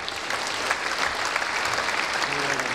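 Graduation ceremony audience bursts into loud, dense applause and cheering that carries on evenly for a few seconds.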